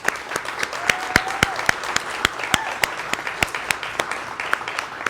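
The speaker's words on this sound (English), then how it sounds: "Let's give our panelists a big round of applause" Panel audience at a 2023 OKC MED Week ARPA Accelerator session applauds the panelists: a steady wash of clapping with sharp individual claps standing out, fairly near, with no talk over it.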